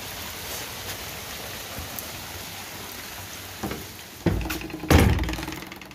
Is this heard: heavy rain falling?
yes